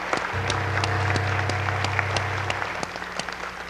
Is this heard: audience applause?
yes